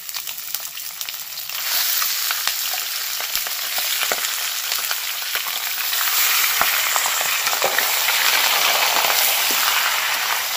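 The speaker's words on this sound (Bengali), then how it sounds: "ও কি আওয়াজ! চিকেনটা পুরোপুরি ভেজে নিতে হবে, খুব ভালো করে ভেজে নেবে।" Chicken leg pieces fry in hot oil in a pan, making a loud, dense, continuous sizzle and crackle that builds slightly and runs steadily throughout with no voices.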